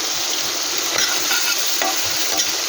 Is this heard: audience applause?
no